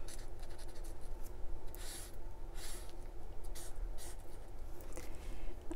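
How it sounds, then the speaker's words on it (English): A pen writes by hand in a Hobonichi Techo journal, giving close, steady scratchy strokes in short bursts over a continuous background hum, with no talking. "I'm just going to do very basic writing, granny stripe"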